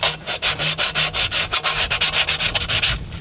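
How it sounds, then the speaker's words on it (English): Rough back-and-forth sanding of burrs on a PVC part during an RV modification, with close, steady rhythmic rubbing strokes repeating about every quarter second. "I'm going to sand these burrs down."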